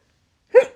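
A single sharp sneeze set off by pollen drifting through open windows, one brief burst after silence, close and fairly loud.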